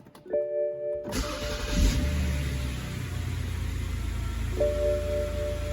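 A 2006 BMW 530xi with an N52 engine cranks briefly on a newly installed starter, then catches and settles into a steady, loud idle that keeps running to the end.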